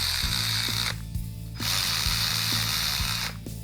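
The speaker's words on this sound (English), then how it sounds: "We're just going to use the electric 1/4-inch ratchet just to run these down." An electric 1/4-inch ratchet running down Edelbrock valve cover bolts on an original 440 Six Pack engine, two close whirring bursts with a rapid mechanical clatter and a short pause between them.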